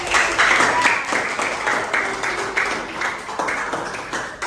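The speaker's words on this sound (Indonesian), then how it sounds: "berikan tepuk tangan untuk Meredith" Applause from students in a Balinese-language class at a junior high school, a burst of many hands clapping close by for a classmate, fading unevenly with some murmuring voices under it.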